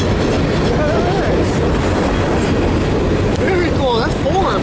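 Two CSX freight trains meeting in Fostoria, Ohio, with the eastbound train rolling past: loud, continuous rumble and rail clatter, broken by occasional wheel squeals, close by throughout.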